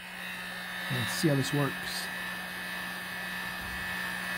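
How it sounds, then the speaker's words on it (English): Heat gun blowing on heat shrink wire connectors, a steady whirring electric hum and airflow running throughout, with someone speaking briefly over it. "We're going to fire up the heat gun"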